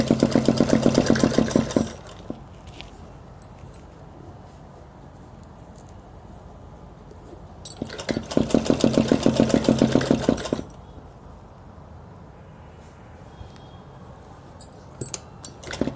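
A sewing machine stitches a 36-inch ladies' suit in two bursts of rapid mechanical whirring, each a couple of seconds long and close and loud, separated by a quieter stretch of handling noise.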